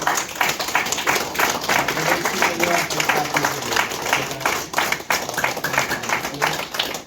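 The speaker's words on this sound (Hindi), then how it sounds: "और एक बार जोरदार ताली बजाइए परमेश्वर के लिए" A village congregation at a worship service claps loudly and continuously in a dense, sustained round of applause, with some voices mixed in.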